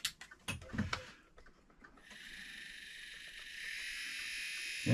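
A USA Trains F7 model locomotive motor, plugged into a power strip, starts after a few clicks and handling knocks and settles into a steady, fairly quiet high whine that runs on alone, ending with a soft thump.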